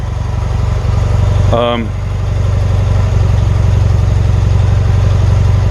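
A 1977 BMW R100S motorcycle idling with the choke on: a loud, close, steady low throbbing engine rhythm that continues throughout, with a brief voice sound partway in.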